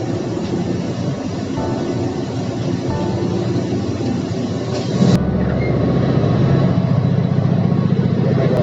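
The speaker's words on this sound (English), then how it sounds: "It houses the 2 main engines that drive the ship." Heavy machinery in a cruise ship's engine room, housing two main engines, drones loudly and steadily throughout, a dense low rumble that shifts slightly in tone partway through, with no talking.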